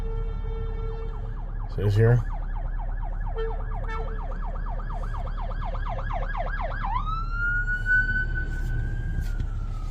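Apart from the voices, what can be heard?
ambulance siren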